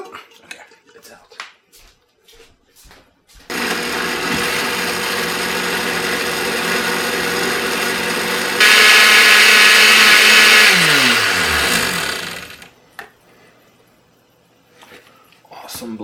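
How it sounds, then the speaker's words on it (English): A blender purées a pumpkin vegetable soup in one loud, steady whir that lasts about nine seconds. The pitch rises partway through, then the motor winds down and stops. Brief talking and kitchen clatter come before and after. "Awesome blender, really great blender."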